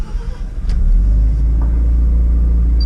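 A Mazda RX-7 with a sequential turbo rotary engine on a test drive, its loud, steady low rumble filling the cabin as the car rolls along, with a few faint ticks and clicks over the drone.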